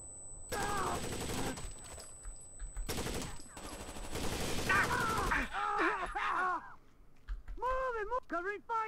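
Bursts of automatic gunfire in the tactical shooter game Osiris: New Dawn, rattling in short volleys under excited shouted voices, fairly close and loud.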